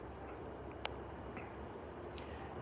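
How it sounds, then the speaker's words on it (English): Crickets chirping at night outdoors, a steady high-pitched trill running continuously and fairly close, with a few brief sharper chirps standing out above the constant insect drone. "But mostly it's going to be just the crickets and flying things."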